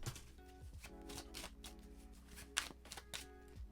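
Tarot cards shuffled by hand, a steady close riffling and soft slapping flutter with a few sharper snaps, quiet and alone with only a low background hum.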